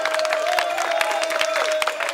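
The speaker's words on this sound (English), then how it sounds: "Come on, a round of applause one more time." At a talent show, an audience gives a dense, continuous round of applause and cheering that fills the whole stretch loudly and evenly.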